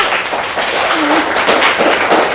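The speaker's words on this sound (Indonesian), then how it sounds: "tepuk tangan untuk Juwita" Students clapping for a classmate in a classroom, a brief burst of applause that swells and fades, with a voice faintly heard under it.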